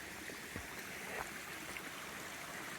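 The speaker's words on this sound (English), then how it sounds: "We have stopped here by this creek" Creek water flowing steadily in the wilderness, a continuous soft rushing and trickling stream that stays even and fairly faint throughout, with no voices.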